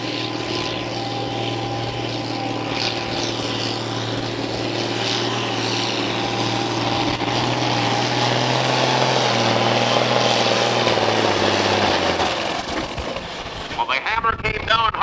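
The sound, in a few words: pulling truck engine roaring at a truck and tractor pull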